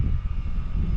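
Engine of a radio-controlled model airplane during a buddy-box training flight, a steady droning hum that holds constant through the second with slight wavering, fairly loud and close, no voices.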